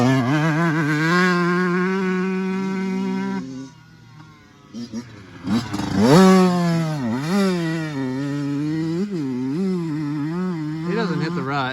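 Honda CR125 two-stroke dirt bike ridden hard, a loud, buzzing high-pitched engine that holds steady, drops off briefly, then revs up and down repeatedly as it passes close by.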